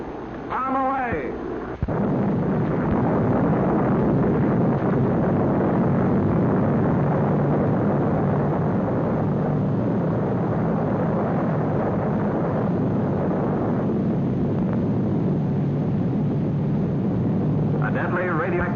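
Archive recording of a 1955 Operation Teapot atomic bomb test: a short burst at the start, then a sudden, sustained deep roar and rumble that fills nearly twenty seconds at a steady, heavy level, with a narrator's voice briefly at each end.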